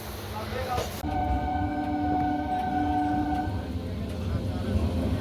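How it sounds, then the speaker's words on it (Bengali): Inside a moving local train in Kolkata, a steady, loud rumble of wheels and carriage fills the space, with a sustained tonal hum running through it. "তো আমরা ঝটপট তো ট্রেনে উঠে বসে পড়লাম"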